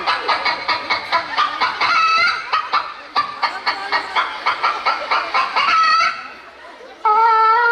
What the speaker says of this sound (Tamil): இன்னைக்கு முட்டை வைக்கிற கோழியா பார்த்து விரட்டி புடிங்கடா